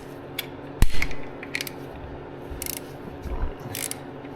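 Ratchet clicking while loosening the clutch cover bolts on a Kawasaki Ninja 500, a few close metallic ratcheting bursts and one sharp clack in a quiet workshop.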